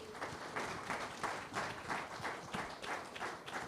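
An audience at a live interview event claps together in a steady, rhythmic burst of applause, close and loud, with no voices over it.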